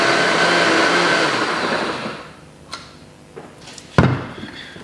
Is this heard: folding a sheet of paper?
no